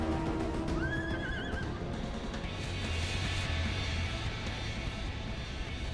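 A unicorn mount in Final Fantasy XIV gives one clear, wavering whinny early on, then fades into a steady bed of game sound with faint clip-clop. No one speaks.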